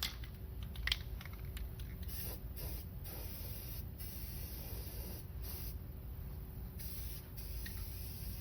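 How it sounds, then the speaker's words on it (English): Rust-Oleum spray paint hissing from an aerosol can onto a rusty Char-Griller grill body in a run of short and longer bursts, fairly close and steady, with no talking. "then you can even come back and hit them again as you spray the whole grill body"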